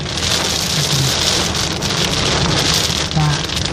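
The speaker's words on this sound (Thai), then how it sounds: "ตอนนี้ฝนตกครับ ฝนตกแล้ว" Steady, dense rain falling outdoors in Loei province, Thailand, a continuous hiss of drops on surfaces filling the whole stretch at close range, with a faint low rumble underneath.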